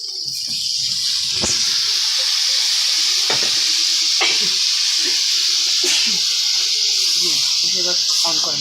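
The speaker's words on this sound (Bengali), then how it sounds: "আমরা এখন এটাতে আলুগুলো দিয়ে দিচ্ছি।" Boiled potatoes dropped into hot spiced oil give a steady, loud hiss and sizzle, with a few sharp spits and stirring knocks along the way and no talking.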